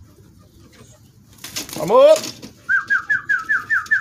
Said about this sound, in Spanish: Ahí están llegando todas mis palomas ya.